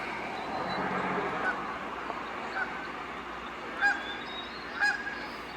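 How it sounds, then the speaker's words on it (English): Geese and their goslings crossing a small road or trail, with a few short honks sounding at intervals over a low, steady outdoor background, moderately close. "here we go with the geese crossing the road again"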